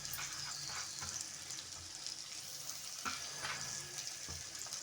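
Capsicum, cabbage, beans and carrot sautéing together in a pan give a steady, close sizzle with occasional stirring scrapes and no voices.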